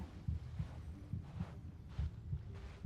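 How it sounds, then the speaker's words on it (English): A heartbeat effect from the game Genshin Impact, a low, muffled double thump repeating steadily at a moderate pace over a soft hum, fairly quiet and alone. "Yo, the heartbeat thing is kind of crazy."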